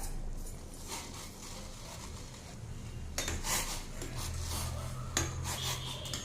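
Scraping and rubbing of a utensil stirring vermicelli in boiling water in a metal pot, steady strokes close by with a few sharper clinks.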